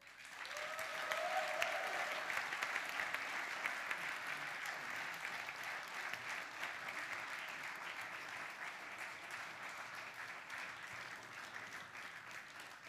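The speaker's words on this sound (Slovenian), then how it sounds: "Vi, publika, pa še en velik aplavz za našo zmagovalko." A concert hall audience at a youth music contest final applauds its winner with sustained, dense clapping that rises early, then holds steady for over ten seconds before slowly easing.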